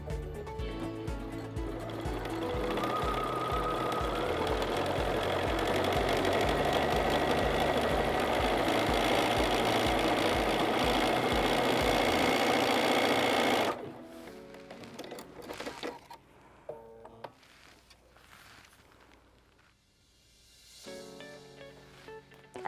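A sewing machine runs a decorative running zigzag stitch on gray fur, a close, steady whirring hum for about fourteen seconds, then stops and leaves only scattered handling clicks and soft noise.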